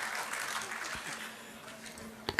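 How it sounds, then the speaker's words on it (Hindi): Audience applause at a mushaira poetry recital in Ludhiana, a moderate, fairly faint clapping wash that thins toward the end, with a voice briefly audible beneath it. "यार एक बार जोरदार तालियां बजा दो ना।"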